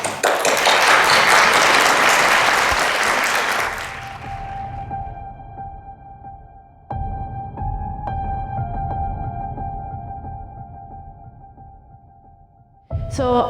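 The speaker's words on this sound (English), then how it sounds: "Congratulations and applaud." Audience applause at a talk on cell-biological regulation and the matrix concept, a loud dense burst for about four seconds that quickly fades, then long quiet ringing tones with occasional soft taps before a sudden sound at the very end.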